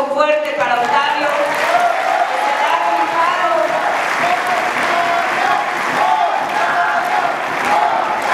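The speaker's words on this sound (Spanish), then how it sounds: "Les pido un aplauso fuerte para Octavio." Loud, dense applause from a large crowd at an outdoor political event for a security agreement signing in Milpa Alta, steady and unbroken for several seconds, with voices and shouts mixed into the clapping.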